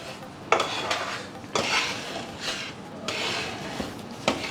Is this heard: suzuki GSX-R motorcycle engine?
no